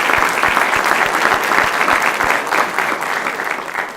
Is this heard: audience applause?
yes